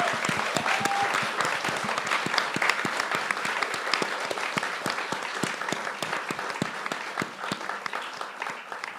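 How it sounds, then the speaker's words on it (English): An audience applauds at the close of a panel discussion, steady dense clapping throughout, fairly full and sustained from start to finish with no voices standing out. "Can we give them a round of applause?"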